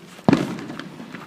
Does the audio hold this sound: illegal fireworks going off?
yes